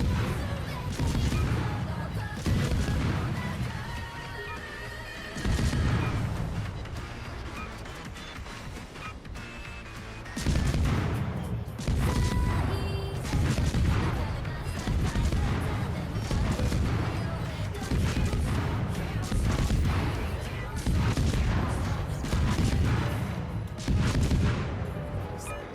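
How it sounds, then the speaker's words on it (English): Guns of the destroyer Forrest Sherman firing in World of Warships, with repeated booming salvos at regular intervals over continuous battle ambience, with a voice talking over them. "Guns with their low arcs are what sold me on the ship."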